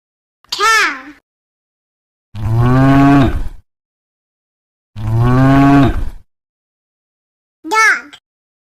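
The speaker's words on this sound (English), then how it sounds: "Cow." A cow moos twice, long deep bellowing calls each lasting over a second, loud and close, framed by brief higher animal cries at the start and end.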